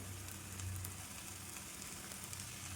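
Wheat flour dough with okra sizzles on a hot tawa, a steady, even frying hiss held at low level throughout with no voices.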